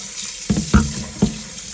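Tap water splashes into a kitchen sink while raw chicken is rinsed after a vinegar soak, close and fairly loud, with three short surges of splashing over a steady running stream.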